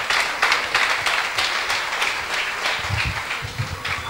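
An audience applauds steadily in honour of a man who kept a local radio station in Tomar broadcasting for 28 years, with a dense, even wash of clapping that lasts the whole stretch and no voices over it.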